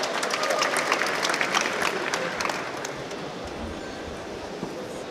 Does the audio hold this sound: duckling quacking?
no